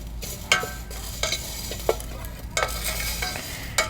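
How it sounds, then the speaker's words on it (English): Fenugreek seeds roast in a pan over low heat with a soft steady crackle and sizzle, broken by a handful of sharp scrapes and stirs near the pan, with no talking. "you want to keep it on low heat, and you want to roast it for about 3 to 4 minutes"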